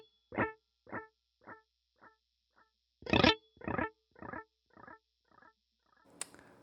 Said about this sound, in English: I have a quarter note analog delay turned on.